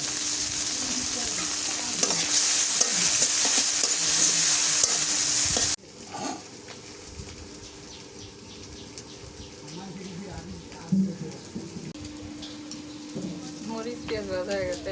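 Onion and green chilies frying and being stirred in a pan for a fish and pointed gourd curry: steady loud sizzle, then a quieter crackle with intermittent spatula scrapes and stirring, close by.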